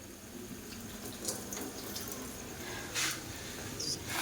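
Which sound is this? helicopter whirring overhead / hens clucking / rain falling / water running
water running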